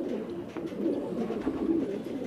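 A Gagra Khaira Dande Maar pigeon coos in a thick, unbroken low burble, several birds murmuring together nearby without any voices.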